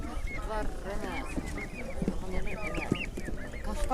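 Turkey chicks of the Russian broad-breasted breed, about a month and a half old, at an outdoor livestock and poultry market, a steady chorus of high peeping and chirping calls, close by, with people talking over them.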